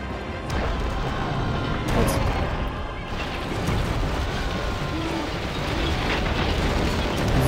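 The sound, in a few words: gate being destroyed in video game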